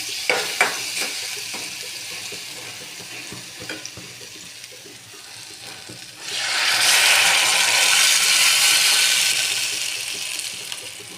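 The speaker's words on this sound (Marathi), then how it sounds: "ती प्युरी टाकायची नंतर." Strained tomato puree poured into a hot pan, where quiet frying with scattered clicks gives way midway to a sudden, loud, broad sizzle that holds steady and slowly eases.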